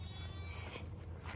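Faint, distant bleating from baby Boer goats over a low background hum, brief and soft.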